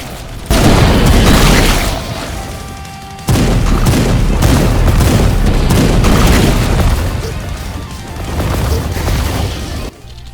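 Rocket launcher blasts in the Doom game Age of Hell: a loud barrage of heavy booms and crashing explosions, nearly continuous, with a brief lull and a sudden cutoff near the end.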